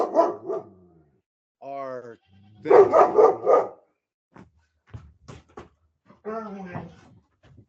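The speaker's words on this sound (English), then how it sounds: "There's another dog walking through the ranch, and he's a little upset." A dog on a ranch barks in short bursts at a moderate distance, in between stretches of someone talking; some of the barks come as quick clusters and others as single yelps.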